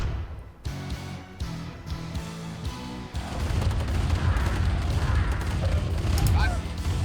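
Gunfire and explosions from the real-time strategy game Command & Conquer Remastered, Tiberian Dawn covert operations, with bursts of shots and booms building into a dense, continuous barrage of battle noise.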